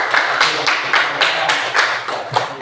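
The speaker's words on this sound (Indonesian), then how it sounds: "Berarti tepuk tangan buat kelompok 1." Classroom applause for a student group in an elementary school lesson: a steady burst of many hands clapping together, close and fairly loud, lasting a couple of seconds with no voices.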